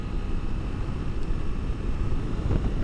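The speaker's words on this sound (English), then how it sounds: "it's just the engine's working really hard for nothing" Honda CRF300L Rally dual-sport motorcycle engine straining at about 105 km/h and 6,500 RPM on the highway, a steady loud drone mixed with wind roar, continuous and close throughout.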